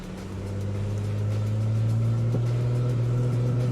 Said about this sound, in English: give it gas to bring it up to your launch RPM